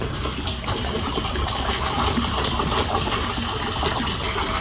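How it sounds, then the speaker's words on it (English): RV antifreeze poured from a jug into a soft wash system's water tank already holding about five gallons of water, giving a steady, continuous gushing liquid flow throughout. "Pour it into your water tank"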